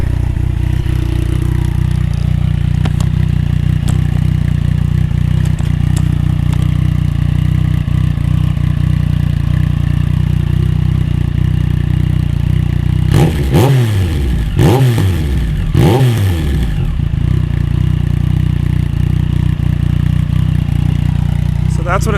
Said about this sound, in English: That's what it sounds like from the back. Yeah, quite loud.